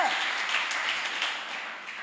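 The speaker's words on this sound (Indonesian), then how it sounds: "Yang setuju dengan saya berikan tepuk tangan bagi dia" A church congregation at a Sunday worship service gives a brief burst of dense applause, loud at first and gradually thinning out over a couple of seconds.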